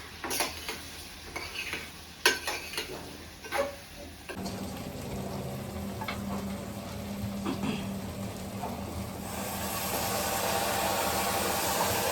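Stirring clinks and scrapes give way to a steady hiss as vegetables hit hot oil while tempering a vegetable curry in a pan, the sizzle building and continuing to the end.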